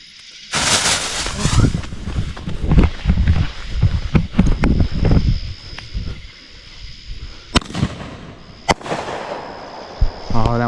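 Consumer fireworks fired on July 4, heard as a close series of loud bangs and crackling bursts over several seconds, followed by a few sharp isolated pops later on, with wind noise and people talking around them.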